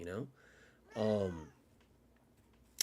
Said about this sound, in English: This cat, she just doesn't, I fed her so much and she's like, it's time.